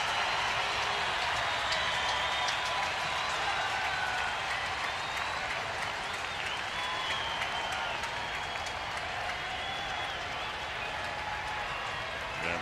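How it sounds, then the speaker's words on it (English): A baseball crowd at a Mets versus Giants game cheers and claps steadily with a 2-2 count, two out and two on in the fifth inning. A commentator's voice runs over the broad, even roar. "And now the crowd comes to life with 2-2, 2 out, and 2 on"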